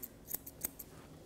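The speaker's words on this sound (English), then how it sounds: "we're just going to use our scissors just to trim round" Scissors snip through a Labradoodle's fur during a schnauzer-style grooming trim, giving a few sharp, quiet clicks spaced unevenly over a soft background.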